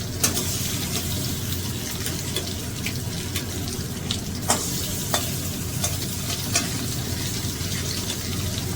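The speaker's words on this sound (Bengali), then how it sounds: "এবার গ্যাসের ফ্লেমটা একটু বাড়িয়ে দিয়ে মাছগুলো ভেজে নেব।" Tangra fish frying in a little oil in a wok over a raised gas flame, a steady close sizzle with occasional sharp crackles and spatters throughout.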